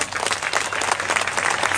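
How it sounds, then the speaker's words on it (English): Parents at a grammar school event applaud together in a steady burst of clapping, fairly close and even, with no talk over it. "I request all the parents to give them a clap"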